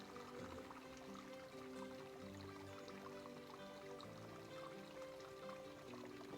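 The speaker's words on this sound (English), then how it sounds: "So you can hear it. So we are right next to the creek" A creek flows beside a trail in a redwood forest, a soft continuous babble of running water with faint trickles, steady and fairly quiet with no talking.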